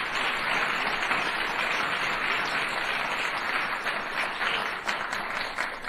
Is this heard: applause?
yes